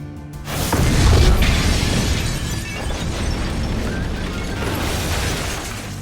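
A large explosion from the Breaking Bad scene at Tuco's hideout opens with a loud boom, then a sustained roaring rumble with debris-like crackle that slowly settles over several seconds.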